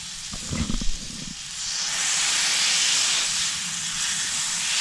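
A burger patty sizzles loudly on a hot grill as a spatula presses it flat, a steady bright hiss that swells after a few soft knocks and scrapes at the start.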